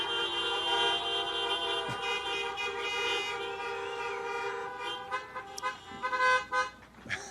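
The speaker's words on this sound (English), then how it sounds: "love the creative honking" Car horns honk at a drive-up political rally, sustained blaring tones overlapping from several vehicles at middle distance, with shorter toots breaking through near the end.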